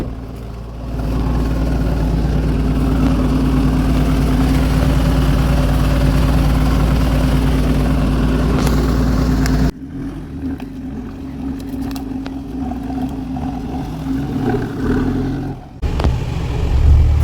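A 4x4 jeep stuck on a rock during beach off-roading gives a loud, steady low engine drone that cuts abruptly to a quieter rumble with scattered knocks and rattles.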